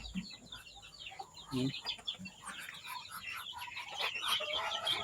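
Chickens cluck and chirp in short bursts, with soft peeping of chicks over a busy rustling background at feeding time; a voice murmurs now and then.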